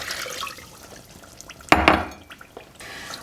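Granulated sugar and water stirred in a pot for caramel, with a spoon scraping and clinking against the metal in a short burst of sharp strikes amid quieter sloshing, close and alone without voices.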